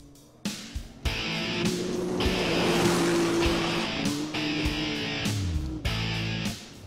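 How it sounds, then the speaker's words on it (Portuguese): Rally quad bikes and cars racing through the Jalapão backcountry, close and loud: engines rev and shift through several gear changes over about seven seconds, with no talk. "O silêncio do Jalapão desaparece com o barulho das máquinas velozes."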